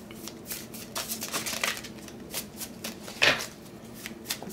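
Tarot cards being shuffled by hand in a series of crisp riffling and slapping bursts, close and fairly loud, with one sharper flurry near the end and no talking.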